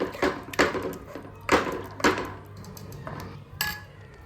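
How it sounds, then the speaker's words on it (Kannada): A spoon stirring cooked lentils (dal) in a pot, sending out a series of close metallic clinks and scrapes against the pot walls in an uneven rhythm, with a faint low hum underneath. "ಅಷ್ಟೊತ್ತಿಗೆ ಇಲ್ಲಿ ಬೇಳೆನೂ ಬೆಂದಿದೆ, ಇದನ್ನು ಚೆನ್ನಾಗಿ ನಾನಿಲ್ಲಿ ಮಿಕ್ಸ್ ಮಾಡ್ಕೋತಾ ಇದ್ದೀನಿ."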